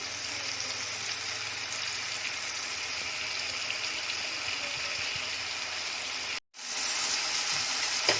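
Minced keema frying in an Instant Pot, a steady close hiss and sizzle that runs evenly for several seconds, briefly cut off near the end, then resumes.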